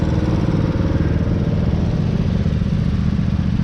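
A vehicle engine revs hard and steadily at full throttle while pushing through a sand pit, a loud, continuous droning roar heard up close with no talking.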